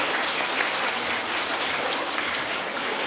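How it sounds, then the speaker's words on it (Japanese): Steady, dense applause from a primary school audience in Yokohama before a recorder concert, even in loudness across the whole stretch with no voices over it. "拍手。"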